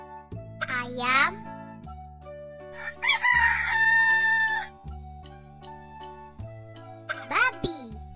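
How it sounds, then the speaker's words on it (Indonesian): A rooster gives a loud cock-a-doodle-doo over a children's cartoon music track, and a voice speaks as well. "Ayam."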